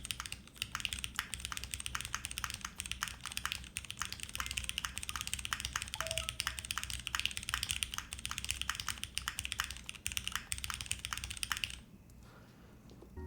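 Typing on a Blade60 mechanical keyboard fitted with PBT keycaps: steady, dense clacking keystrokes at a fast rhythm, close and fairly loud, with no talking, stopping abruptly near the end.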